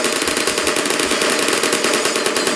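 Rapid turret gunfire in the video game Portal, a continuous loud stream of closely spaced shots that fills the whole moment without pause.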